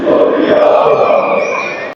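Dinamo football fans roar together in a stadium at a national league match, a loud, dense, sustained crowd chant and cheer filling the whole stretch before cutting off abruptly.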